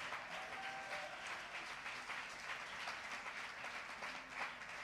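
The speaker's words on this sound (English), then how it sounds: "Go ahead and clap your hands." A church congregation claps its hands at a Pentecost service, a steady wash of many hands sounding at a moderate distance throughout, with no talk over it.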